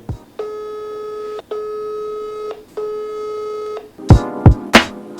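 An unanswered phone call rings out as three evenly spaced steady electronic tones, each about a second long, followed by a few sharp clicks and thumps of handling.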